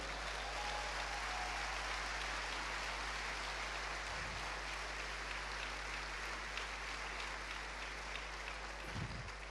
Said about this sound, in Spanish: Den un aplauso al Rey.